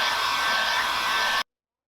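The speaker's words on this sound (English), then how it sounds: "So we just use a heat gun" A heat gun blows a loud, steady roaring hiss at close range while it warms the glue on a boot sole, then cuts off abruptly into silence.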